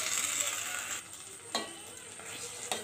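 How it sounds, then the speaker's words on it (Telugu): Buttermilk is stirred into frying upma in a pan over a low-to-medium flame, giving a steady bright sizzling hiss. A few sharper scraping strokes cut through, with no talking. "దీన్ని బాగా మిక్స్ చేసుకోవాలి లో మీడియం ఫ్లేమ్లో ఉంచుకొని దీన్ని కలుపుతూనే ఉండాలి"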